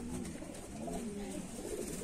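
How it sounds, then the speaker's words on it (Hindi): Moonga pigeons coo softly and repeatedly in low, rolling calls, fairly quiet and close, with a faint background hum and no talk. "इसमें कबूतर मूंगा कहते"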